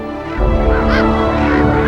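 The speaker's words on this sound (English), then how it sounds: "we spot a few gulls and the rare and endangered bar-headed geese" Rare, endangered bar-headed geese honk near a high-altitude lake in Ladakh, a close, loud flock calling continuously with overlapping nasal honks.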